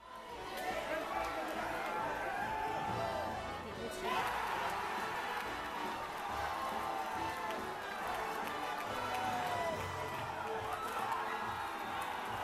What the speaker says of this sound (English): Every single time an old fighter returning is shown, the crowd just lights up.